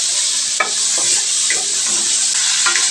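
Chopped onion and tomato for salmon head sinigang sizzling in a pot, a steady loud frying hiss with a few stirring clinks and scrapes, close up.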